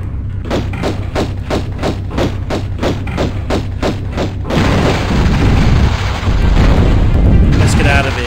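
Explosion as the Scion is destroyed in Tomb Raider 1 Remastered, Atlantis level: a rapid series of about a dozen regular deep thuds, then a sustained loud rumbling roar that builds toward the end, with no talk.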